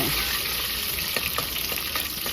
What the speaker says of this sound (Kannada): ಅದು ಸ್ವಲ್ಪ ಚೆನ್ನಾಗಿ ಫ್ರೈ ಆಗಲಿ ಈರುಳ್ಳಿ ಫ್ರೈ ಆದಮೇಲೆ